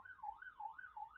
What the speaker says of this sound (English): And there's another siren going past my house.